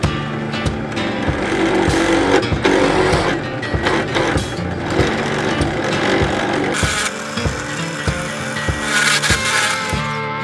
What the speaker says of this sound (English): So let's drill out for our magnets.